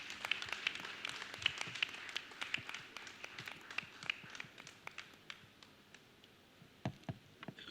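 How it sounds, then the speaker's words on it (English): An audience claps for a panelist at a women's leadership panel in a large hall, a steady patter of many hands that sounds moderately distant and even, with a few louder claps standing out. "A round of applause,"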